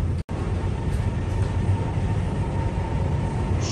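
A Guangzhou Metro Line 7 subway carriage on the western extension rides near the terminal station. A loud, continuous low rumble and hum of the moving train fills the nearly empty car, with one very brief dropout near the start.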